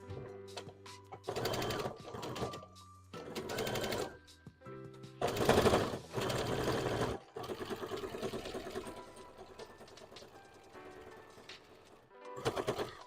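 A sewing machine stitches pieces of a Pokemon hat in a home craft session, running in several short bursts of rapid mechanical chatter with pauses between, close and clear, no talking during the stitching.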